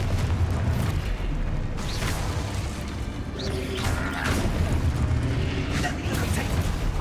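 A Confringo blast spell fired in Hogwarts Legacy bursts amid a dense, loud game mix, with rumbling impacts and crackling flares repeating through the stretch; a voice is heard over it.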